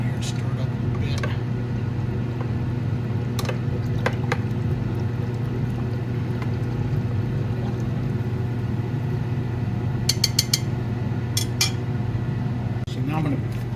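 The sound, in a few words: stirring lye, sugar and silver chloride mixture in a beaker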